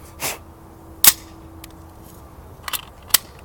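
A SIG Sauer P226 CO2 BB pistol with blowback action fires a few times in separate sharp snaps, each a short bright crack with a brief mechanical clack, spaced irregularly against near silence.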